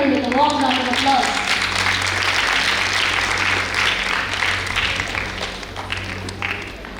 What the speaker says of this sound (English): Let's welcome her with a warm round of applause.